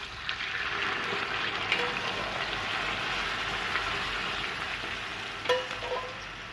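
Juice added to a hot pan with butter for glazing meat, a steady broad sizzle continuing throughout with a brief clatter near the end.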